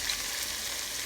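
Two teaspoons of garlic sizzle steadily in a pan over medium heat, a soft, even frying hiss with no talk.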